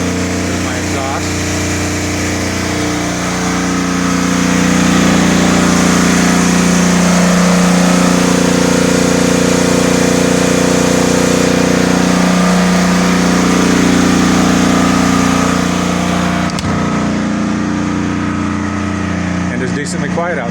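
A portable generator, the EcoFlow DPU setup, drones steadily at its exhaust outdoors, a loud, continuous engine hum that swells slightly in the middle and holds throughout.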